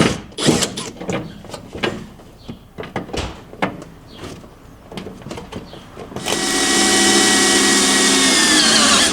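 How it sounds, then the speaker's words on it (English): A power drill bores holes in the subframe of a Ford Mustang S550 while underbody panels and a fender evacuation kit are fitted, with scattered knocks and clanks of handling first, then a steady, loud, continuous drilling whine. "So now I'm going to go back and drill those holes."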